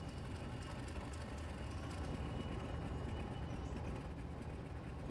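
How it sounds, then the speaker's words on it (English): Steady low rumble of an Alco diesel locomotive engine in the railroad game Railroader, a constant even drone with no breaks, moderately distant. "Really like that Alco sound."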